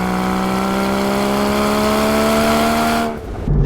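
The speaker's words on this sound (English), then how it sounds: "This car does not sound quite as sexy as it could" A Porsche 718 Cayman GT4 engine with a gasoline particulate filter revs loud and close, a steady high-revving tone holding for about three seconds before cutting off abruptly, followed by a brief rumble.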